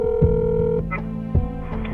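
Telephone tones at the start of an anonymous call: steady electronic beeps with a few sharp clicks, close and clear, running for about two seconds.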